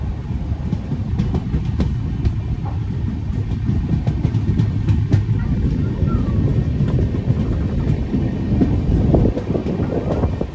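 Dakshin Express, running from Hyderabad towards Delhi, rolling into Sevagram station with a steady, loud rumble of rail cars and faint clickety-clack of wheels throughout, with no talk.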